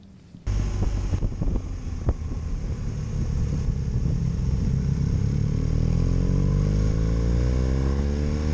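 A 2019 BMW R1250RS motorcycle pulls away and rides on, its boxer engine revving up through gears with rising, smooth drone, while wind rush builds around the close-mounted microphone; no talk.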